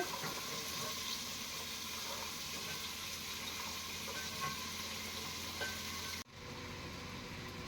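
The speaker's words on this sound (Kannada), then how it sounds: "ಈರುಳ್ಳಿ ಚೆನ್ನಾಗಿ ರೋಸ್ಟ್ ಆಗಿದೆ ಟೊಮೊಟೊ ಹಾಕ್ತಾ ಇದ್ದೀನಿ ಹಾಕ್ತಾ ಇದ್ದೀನಿ ಆಲೂಗೆಡ್ಡೆ ಬಟಾಣಿ" Onions, tomato, potato and peas frying in a pan, a steady soft sizzle with faint stirring that holds evenly and then dips briefly near the end before resuming.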